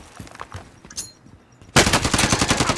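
Call of Duty: Modern Warfare gunfire: after a quiet stretch of small scattered noises, a loud, rapid burst of automatic fire starts suddenly and keeps hammering to the end.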